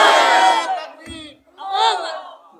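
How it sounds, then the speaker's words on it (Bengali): A crowd at a religious mahfil gathering in Narsingdi shouts a loud takbir chant in two bursts, a sustained massed roar followed after a short lull by a second swell of many voices. "তাকবীর হবে না একটা?"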